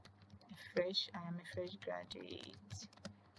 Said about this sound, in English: I am going to start typing